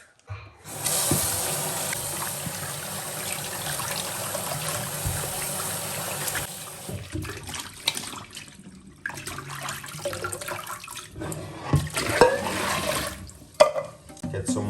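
Running water pours steadily from a tap, rinsing salt fish outdoors, a continuous splashing rush that later breaks up into intermittent splashes and clatter.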